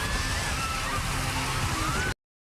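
Water laced with acid pours down heavily onto people in a TV drama, a steady, dense sloshing torrent that continues unbroken before stopping abruptly.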